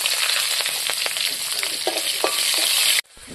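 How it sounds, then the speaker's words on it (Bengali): Loud, steady sizzling of bay leaf and green chilli dropped into hot oil, with occasional stirring scrapes, cutting off abruptly near the end. "তেল গরম হয়েছে, এখন আমি তেজপাতা আর কাঁচা লঙ্কাটা দিলাম।"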